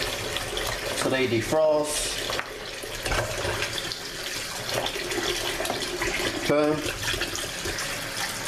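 Cool tap water runs into a bowl to soak oxtails for stew, a steady splashing stream under a person talking, with a couple of brief louder gushes.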